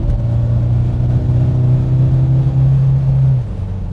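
A Mk3 Ford Cortina engine revs hard under full throttle on the road, a loud sustained gruff drone that holds steady for several seconds before dropping off abruptly near the end.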